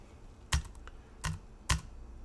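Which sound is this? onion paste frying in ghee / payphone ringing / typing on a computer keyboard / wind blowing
typing on a computer keyboard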